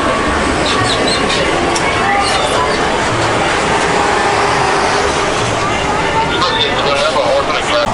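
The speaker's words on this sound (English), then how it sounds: "we're on the old tram" Steady rumbling of a moving studio tour tram at Universal Studios Hollywood, with a constant broadband roar and faint rattling, loud and continuous throughout.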